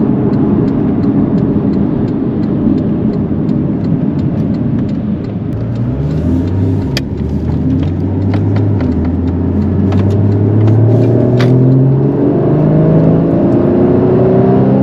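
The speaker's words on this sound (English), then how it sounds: "You can see it accelerates like nobody's business, and it corners unbelievably well." A 2015 Porsche Boxster S accelerates hard through rising gears, the engine note climbing and dropping with each shift in a steady loud drone heard from inside the car, with no talking.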